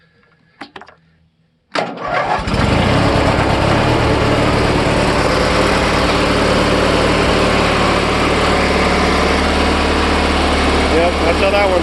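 A Deutz-Allis or Simplicity lawn tractor engine cold-starts after sitting about a week: a brief cranking catch, then it fires abruptly and settles into a loud, steady close-up idle, with a short spoken word over it.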